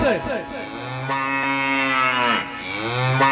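A cow lowing in a long, drawn-out moo that rises and falls, loud and close, with a faint voice briefly underneath.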